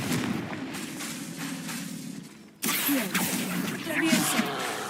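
A Confringo fire spell bursting in the game Hogwarts Legacy: a muffled rumbling backdrop, then a sudden loud blast midway followed by lingering crackling debris, with a voice speaking faintly over it.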